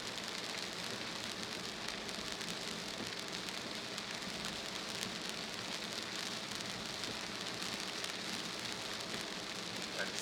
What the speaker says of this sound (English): So it's raining harder.